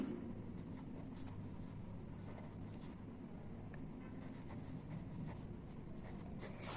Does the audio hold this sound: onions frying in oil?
no